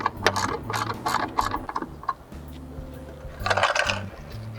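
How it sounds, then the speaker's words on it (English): A 10mm socket wrench ratchets rapidly in short bursts while backing out a chassis ground bolt on a 2011+ Hyundai Sonata; the clicking runs close and crisp with brief pauses between strokes. "We're going to be using a 10mm socket and socket wrench to remove the bolt."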